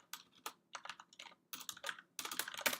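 Keys clatter on a computer keyboard in quick, uneven bursts with short pauses between them, close and crisp with no voices.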